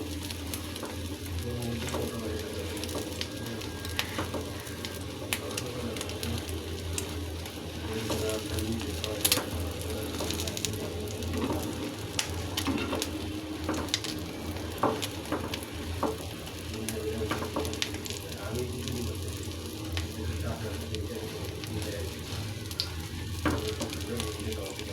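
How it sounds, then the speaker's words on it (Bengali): An egg fries in a pan with a constant soft sizzle and occasional crackles and stir clicks, while a pigeon coos faintly in the background. "দেখুন আমার ডিমটা কত সুন্দরভাবে ভাজা হয়ে গেছে।"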